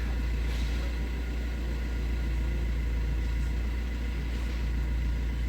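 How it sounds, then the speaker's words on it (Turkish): The engine of a 2010 Fiat Linea runs at a steady idle with a constant low hum and no changes or other sounds. "Kontağı açtık. Ve aracı çalıştırdık."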